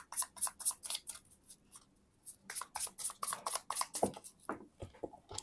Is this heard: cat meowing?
no